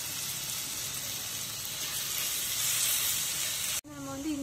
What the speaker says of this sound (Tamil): இப்போ எண்ணெய் ஊற்றி எண்ணெய் சூடானதை நம்ம வந்து வெட்டி வச்சிருக்கக்கூடிய வெங்காயத்தை போட்டுக்கலாம்.